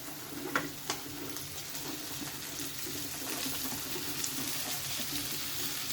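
Okra tossed into hot oil with asafoetida and turmeric over softened onion, giving a steady, even sizzle and crackle throughout, with a few sharper pops near the start.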